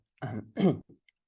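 Two short rough bursts of throat clearing or coughing, close and fairly loud, with a faint trailing huff after.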